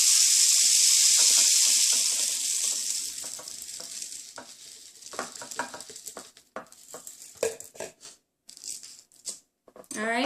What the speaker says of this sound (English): I hold it down and I pour my rice in.